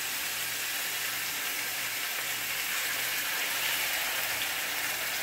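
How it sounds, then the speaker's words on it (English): Pork chops sizzling in a hot skillet, a steady, soft broadband hiss and crackle, close and continuous, with no voices. "I got the nice sizzle that I wanted"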